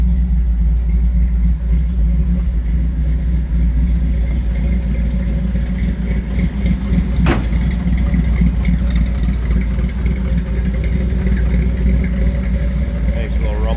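Exhaust of a 1954 Chevrolet 3100 five-window pickup with a 350 V8, a loud, steady deep idle rumble recorded close to the tailpipe, running continuously with a brief click partway through.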